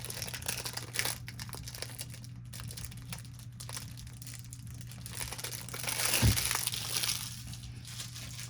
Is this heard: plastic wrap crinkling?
yes